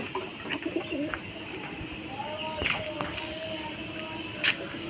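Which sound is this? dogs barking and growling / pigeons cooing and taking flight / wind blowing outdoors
pigeons cooing and taking flight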